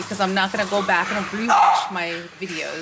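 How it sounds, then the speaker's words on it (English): A pet dog barks and yips in short bursts close by, under and between steady talking at a home computer desk. "I apologize for my dog"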